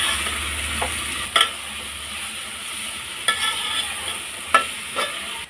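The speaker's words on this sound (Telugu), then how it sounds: "ఇప్పుడు బాగా మిక్స్ చేసుకోవాలా" Mushroom pulao is stirred and mixed in a pan over a steady sizzle, with a few sharp scrapes and taps of the spoon against the pan.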